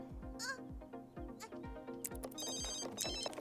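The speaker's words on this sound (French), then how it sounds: "Et le téléphone sonne" A telephone rings in The Sims 3, repeated electronic ring bursts over light background game music and effects, fairly close and clear with no talking.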